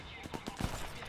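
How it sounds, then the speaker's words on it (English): Gunfire in the stealth shooter Sniper Elite 4, Bitanti Village level: a few sharp shots burst out over a steady background bed of game ambience, with a player talking across it. "there is somebody shooting at me"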